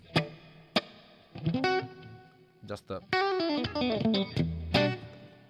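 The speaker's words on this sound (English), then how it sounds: "I put a bit of reverb, only to create an ambient" Electric guitar through a Fractal FM9/Axe-FX3 preset with ambient reverb, detune and chorus: a few sharp plucked notes, then sustained chords and melodic lines ringing out with a wash of reverb, at moderate level.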